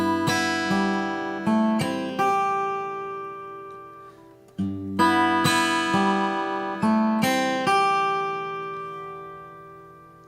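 Acoustic guitar playing the third measure of the first verse of a song, clear plucked notes ringing out in two repeated phrases with a short pause between, solo and close.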